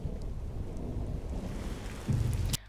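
Rain in a scene from the Squid Game drama series: a steady, soft hiss of rainfall with a low rumble swelling near the end before cutting off.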